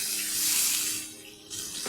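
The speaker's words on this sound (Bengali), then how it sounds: "এরকম বড় বাটির 1 বাটি জল দিয়ে দিলাম" Water splashes into a simmering curry pot for an egg curry, a close, steady rushing pour with bright hiss that dips briefly and then surges again near the end.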